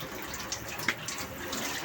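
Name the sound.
water flowing from a solar-powered pump outlet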